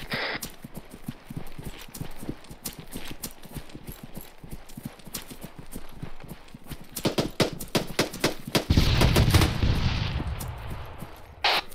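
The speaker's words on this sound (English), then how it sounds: "What was that auto cannon fire?" Automatic cannon fire in the ARMA 3 military shooter, a run of sharp, heavy bursts that builds into a loud sustained volley near the end, with scattered gunfire throughout.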